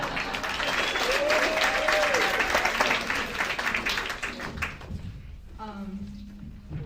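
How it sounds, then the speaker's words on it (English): Audience clapping for youth ensemble performers at a holiday concert, a full burst of applause that thins and fades after a few seconds, followed by quieter room sounds and a brief voice near the end. "Please give them a round of applause"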